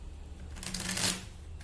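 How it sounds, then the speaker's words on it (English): A deck of playing cards is riffle shuffled at close range, with a quiet buzz of cards flicking together that builds to a brisk, loud burst and then stops, alone with no talk. "I'm gonna start by mixing the deck up by giving it a riffle shuffle"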